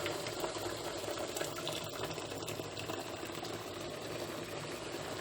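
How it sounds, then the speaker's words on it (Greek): Water is poured into a pot of rice frying in oil, a continuous rushing, bubbling wash that stays steady and close throughout, with no talking. "Σε αυτή τη φάση μπορώ να ρίξω όλο το νερό."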